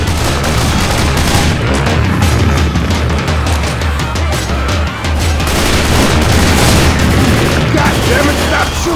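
Dense, continuous gunfire from a Left 4 Dead 2 versus match, rapid shots overlapping into a loud, sustained barrage with booming hits scattered through it for the full length.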